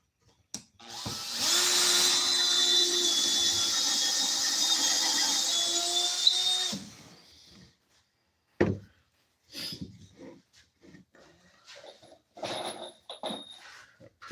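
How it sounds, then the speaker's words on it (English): A power drill runs in one long steady burst of about six seconds, driving screws into woodwork, followed by scattered knocks and handling clatter. "pre-start all these screws before I get it up there."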